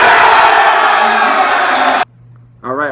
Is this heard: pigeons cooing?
no